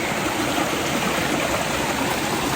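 Water from a natural hot spring pours out in a steady, loud, broadband rush, close by, with no talk over it.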